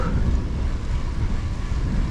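Heavy headwind buffets the microphone while cycling, a constant low roar, loud and close, with no other sounds.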